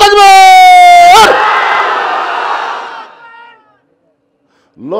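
After a single voice calls out the takbir, a crowd at a religious sermon shouts Allahu Akbar back in one loud, broad collective roar. The roar fades over a couple of seconds into quiet.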